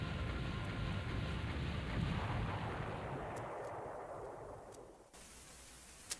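A boss barrage of missiles and explosions in the action video game Silent Bomber: a dense, sustained roar of blasts and rumbling fire that slowly fades, then a short quieter tail with a faint final pop.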